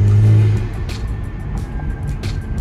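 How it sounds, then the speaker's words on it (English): A Kia Stinger GT engine revs hard through its intake, a loud close roar that swells at the start and then settles into a lower rumble with brief higher blips. "Give them a warning with the engine intakes."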